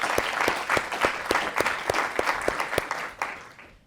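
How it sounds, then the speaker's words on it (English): Applause for a guest speaker at a talk on private equity, made of crisp, fairly regular claps from a modest audience that stay close and distinct before tapering off near the end. "let's give a huge round of applause to Megan for being here with us today"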